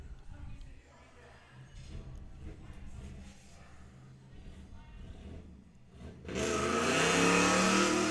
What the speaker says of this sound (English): That noise you just heard was Vinny taking off with his El Camino